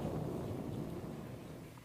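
Deep rolling rumble from a fusion laser shot fired by flash lamps, like rolling thunder: a continuous low roar that slowly fades over nearly two seconds.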